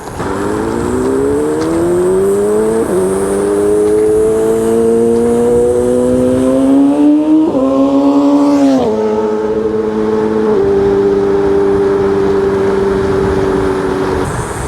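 Ninebot Max G2 electric scooter ridden in sport mode on a desert road: a steady, loud motor whine that climbs in pitch in stepped surges as it speeds up, with constant wind and road rumble and no voices.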